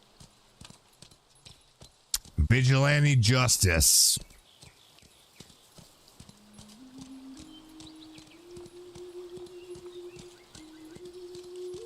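A horse clip-clops along in the No Man's Sky video game, with a steady run of light, rhythmic hoofbeats throughout and a short burst of speech early on, while a soft sustained tone rises in steps underneath.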